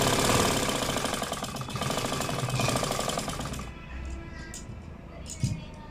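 A sewing machine sews a straight seam along a cloth face mask, its fast mechanical rattle running steadily and fairly close for several seconds before easing off into quieter handling sounds, with a brief knock near the end.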